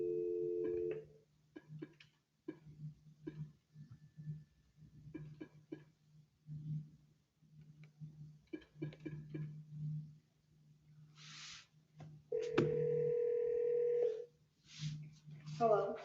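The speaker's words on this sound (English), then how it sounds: "I'm going to call you back and see if we can put you on a speakerphone" A telephone in a courtroom dials out to call someone back on speakerphone: short electronic beeps, then a steady tone lasting a couple of seconds, all under ongoing talk.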